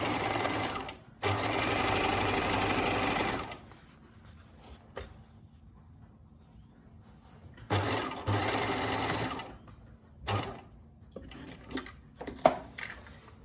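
A sewing machine stitches a small seam through layered fabric on scrubs, running loud and steady in two close bursts separated by quiet pauses, with a few light clicks near the end.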